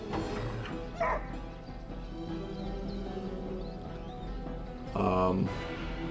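In the video game Divinity Original Sin, a dog barks in two short yelping bursts over a steady game music and ambience bed, fairly prominent in the mix.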